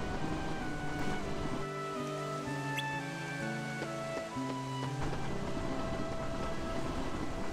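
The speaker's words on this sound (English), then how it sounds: "This is such a loud train." Train in the video game Kingdom Hearts II, a loud, continuous rumble with tonal squeals and whines rising and falling above it, heard alone with no voices.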